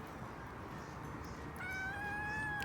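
A single drawn-out cat meow rises near the end over a steady background hiss, close but fairly soft.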